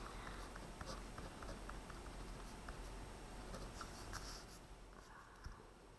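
A pen sketches graphs of rational functions on paper, giving soft, quiet scratching strokes in short bursts close by, with no talking.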